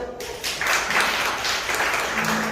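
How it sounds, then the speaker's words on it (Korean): An audience at an art exhibition opening gives a round of applause, a fairly dense burst of clapping that builds after a brief pause and carries on steadily, moderately close, with some crowd murmur underneath. "없는 분만 박수 주세요"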